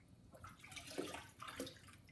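Water is poured from a bucket into a cone in faint splashing, gurgling bursts that swell and fade twice over a quiet indoor background.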